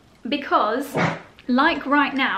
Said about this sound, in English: Sorry if you can hear doggies growling in the background.